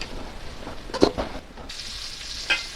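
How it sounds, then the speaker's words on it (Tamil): Tomato sautéing in oil with ginger-garlic paste for a chicken gravy, a quiet, close sizzle punctuated by a few sharp stirring scrapes, with no voices. "இப்போ இதை தக்காளியும் நல்லா வதக்கிக்கலாங்க."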